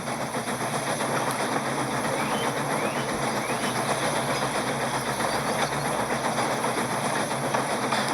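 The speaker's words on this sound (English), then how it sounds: "Later, Henry puffed into a station to collect more passengers" A train rolls along with steady mechanical rumble and rhythmic rail clatter, continuous and fairly loud, without voices, in a Thomas and Friends steam engine scene.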